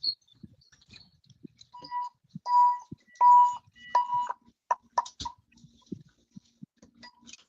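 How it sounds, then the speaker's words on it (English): An alarm system is being disarmed: short, mid-pitched electronic beeps come in a loose sequence with soft clicks and taps between them, close and moderately loud. "Disarming an alarm system."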